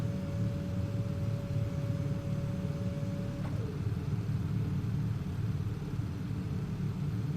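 Droning piston engines of a bomber aircraft in the game Bomber Crew, a steady low rumble with a tone that slides down partway through, alone and fairly quiet.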